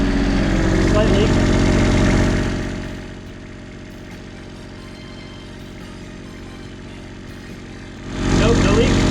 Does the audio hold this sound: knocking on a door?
no